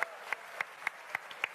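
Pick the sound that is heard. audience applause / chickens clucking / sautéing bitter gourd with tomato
audience applause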